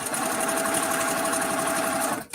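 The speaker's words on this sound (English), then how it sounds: "And I'm sewing, the background fabric is face up." A sewing machine stitches quilt fabric with a fast, steady mechanical whir and rapid needle chatter, close and continuous, then stops abruptly with a brief thump at the end.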